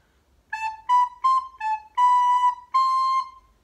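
Recorder plays one bar of the Bransle, with six separate notes in a steady, moderate rhythm. Each tone is clear and whistle-like, alone and close.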